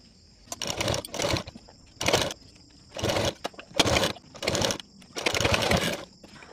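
Sewing machine stitching the collar onto a half-collar blouse, running in short bursts of rapid whirring stitches separated by brief pauses, close and clear.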